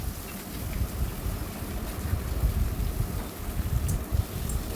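Finely sliced onion fries in a pan while being stirred for a chickpea ghugni. A dense, steady sizzle and crackle continues throughout at moderate level, with no talking.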